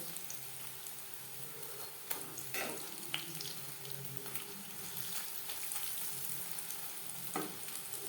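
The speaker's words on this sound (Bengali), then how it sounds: "একটা সাইড ভাজা হয়ে গেলে অপর সাইডটা উল্টে দেবো কখনোই হাই ফ্লেমে ভাজবেন না" Pabda fish fry in oil in a pan over low to medium flame, giving a faint, steady sizzle with occasional soft clinks and spatters.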